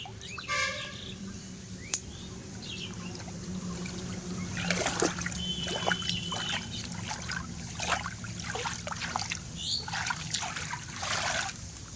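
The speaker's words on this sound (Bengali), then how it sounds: "জলটা সব নালার জলটা সব বাইরে চলে যাবে" Rainwater from a drain trickles away in a thin, continuous flow after a downpour, with scattered bird calls and faint background sounds around it.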